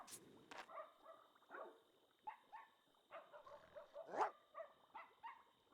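Dog barking in The Sims 2, a run of short, fairly close yaps and woofs in irregular bursts over a quiet game backdrop, with no talking.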